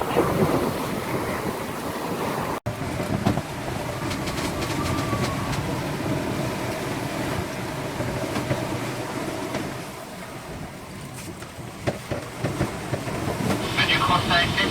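Continuous rush of sea water and surf around a moving sailboat in 18-20 knot gusts, mixed with steady wind noise; the swell eases briefly and then builds again.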